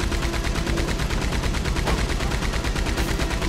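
Gunfire from a Red Dead Redemption 2 shootout rattles in dense, rapid repeated bursts, loud and continuous with no talking over it.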